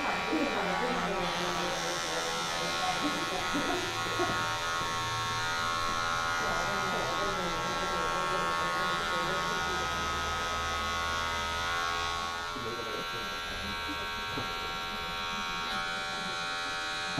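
An electric hair clipper with a 1.5 guard hums steadily through a barbershop haircut, a continuous near buzz with slight shifts in pitch as it moves through the hair.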